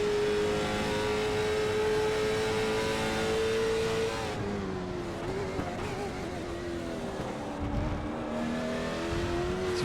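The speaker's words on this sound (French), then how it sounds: "on va se mettre dans la GoPro, dans la voiture de Marc-Antoine Côté pour son premier tour lancé" An amateur-division race car engine screams steadily from onboard at the Charlotte Roval, its high whine dipping with gear changes and then climbing again as the car pushes on through a flying lap.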